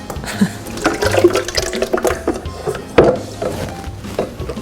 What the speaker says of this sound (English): carefully pour this into the blender without splattering all over